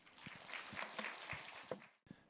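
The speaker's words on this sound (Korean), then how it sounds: "박수로 환영 부탁드리겠습니다" An audience at a tech engineering conference applauds to welcome the next speaker, a dense burst of many hands clapping that cuts off abruptly near the end.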